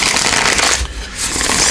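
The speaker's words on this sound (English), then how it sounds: "So give those a couple shuffles there." Tarot cards being shuffled by hand, a loud, close, continuous riffling with a brief pause partway through, with no talk.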